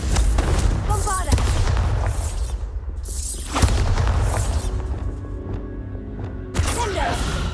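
Confringo blasting spell cast in the video game Hogwarts Legacy, several loud booming blasts with crackling bursts over a rumbling game soundscape.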